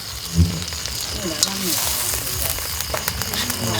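Fat river fish, including small catfish-type fish, grill over an open fire in a rural Isan setting, giving a steady close sizzling crackle with occasional pops and no talking.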